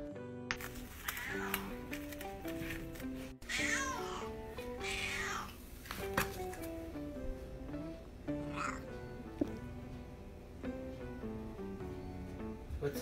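A pet cat meows several times, rising whines breaking through a sung children's-style tune with a voice talking over it.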